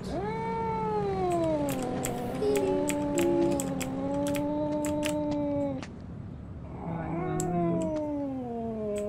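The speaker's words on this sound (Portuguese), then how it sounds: "O gato está nervoso." Cat in the horror video game DreadOut 2 meowing nervously in long, drawn-out wails, several continuous calls close and loud, with a short pause before another plaintive meow.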